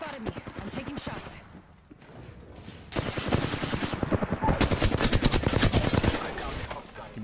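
Rapid automatic gunfire from an Apex Legends match crackles in dense bursts, building louder midway with fast repeated shots, mixed with other game sounds and a voice in the background.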